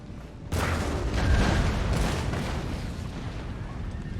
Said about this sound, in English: We're going to plant some shots in front of this cannon